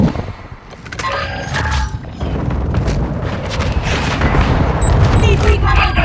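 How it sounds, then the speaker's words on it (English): Mortar strike explosions in a tactical shooter game thud and rumble in heavy bursts, layered with gunfire and mechanical clatter, while voices speak over the battle. "Our mortar strike is inbound."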